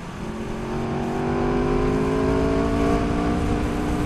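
A 2019 Aprilia RSV4 Factory motorcycle accelerating on a ride in a side wind, its engine note climbing steadily in pitch as a smooth, continuous whine under a constant roar of wind.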